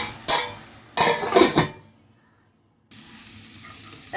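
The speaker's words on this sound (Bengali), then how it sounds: "এখন আমি ঢাকনাটা খুলে নাড়াচাড়া দিয়ে দিলাম।" Metal pot lid lifted and red amaranth greens stirred in a cooking pot, giving a few short scraping, sizzling bursts separated by quiet pauses.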